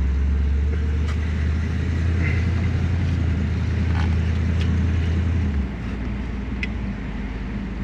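A 1968 Lincoln Continental drives along with a deep, steady engine drone and wind rush from inside the car. The low rumble drops off partway through and leaves a quieter road hum.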